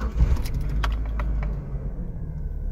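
Car ignition key turned and engine starting: a few quick metallic key clicks and jangles come first, then a steady low engine rumble settles in and runs on evenly, no talking.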